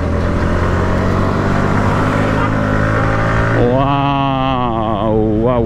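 A motorcycle on an open road gives a loud, steady engine drone with wind rush, and a voice rises over it in the latter half.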